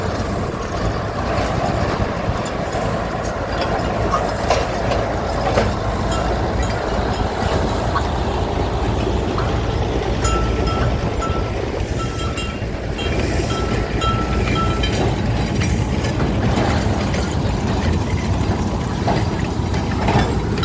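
A diesel locomotive tows a fireless steam locomotive outside a sugar mill, a steady rumbling engine drone with rail clatter and a brief squealing tone midway, moderately loud and continuous.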